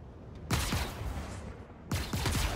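Weapon fire in the space game Star Citizen: two loud, close, heavy bursts of shots, each a quick run of booming blasts with a rumbling tail, separated by a short gap, with no talking.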